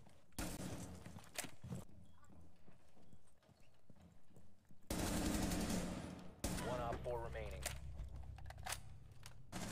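Video game gunfire during a bomb-defusal round: loud sharp bursts of shots crack out in two clusters, near and punchy, with people talking in between and over them.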